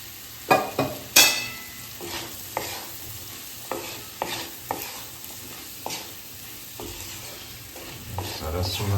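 Masala and vegetables frying in ghee for kodri khichdi, stirred with a spoon in a pan, giving repeated scraping knocks over a low steady sizzle, close and fairly quiet.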